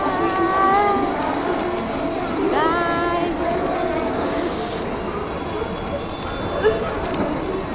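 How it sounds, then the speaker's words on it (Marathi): A passenger train on a station platform, with a rumbling rail hum, squealing wheels and a hiss in the middle. Voices talk over it throughout. "आता आम्ही ट्रेनमध्ये फायनली बसणार आहोत."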